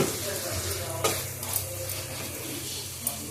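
Curry fries in a pan with a continuous close sizzle, broken by a few soft stirring scrapes and knocks, no talking over it.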